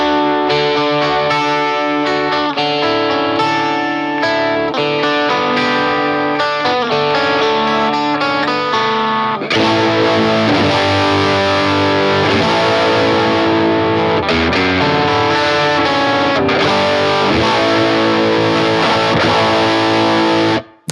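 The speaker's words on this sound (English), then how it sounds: "as I start to back it down, it gets that glassy sound" Electric guitar picked with a sixpence through effects, giving a glassy, chorused and slightly distorted tone. It plays continuous chords and notes that thicken and brighten halfway through, loud and sustained with no talking.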